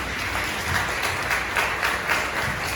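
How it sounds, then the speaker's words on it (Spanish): A congregation at a Marian religious retreat applauds, a dense, continuous round of clapping with gentle swells that fills the whole moment at even volume. "Un aplauso al Señor por eso."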